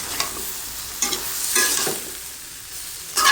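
Vegetables stirred into large shrimp frying in a pan, giving a steady sizzle with a few brief scraping stirs.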